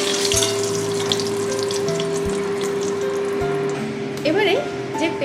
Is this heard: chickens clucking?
no